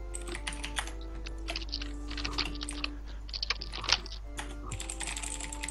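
Quick, uneven clicking of keys on a computer keyboard during a game of League of Legends, close and fairly quiet over a steady low hum, with no talking.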